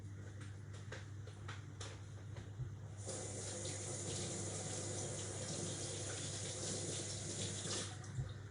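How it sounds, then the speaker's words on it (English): A kitchen tap runs while hands are washed before cooking, a steady close stream of water that grows fuller and louder partway through and continues without pause, with no talking. "I'm quickly gonna go wash my hands, clear the area"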